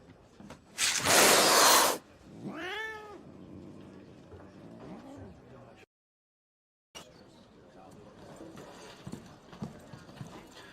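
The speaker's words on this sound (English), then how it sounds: "That was my cat." A pet cat meows in a drawn-out, wavering cry, preceded by a loud burst of noise and followed by a shorter second meow, with faint background movement and a brief cut to silence.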